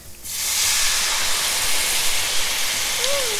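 A quarter cup of cooking sherry hits a hot pan with a sudden loud hiss that swells into a steady, steamy sizzle lasting a few seconds, with a faint voice murmuring near the end.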